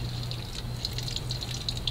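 Water runs out of a hose in a steady, moderately loud rush with a continuous hiss and a low hum underneath, with no talking.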